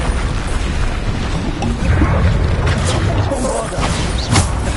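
Bombarda spell blasts in Hogwarts Legacy, loud booming bursts with crashing debris over a dense, continuous rumble of combat effects, close and heavy throughout.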